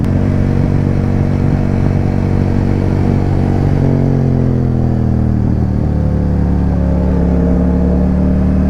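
A motorcycle rides along a hilly rural road, its engine a loud, continuous drone close by, rising and falling in pitch as the rider changes speed, with steady wind and road rumble and no one talking.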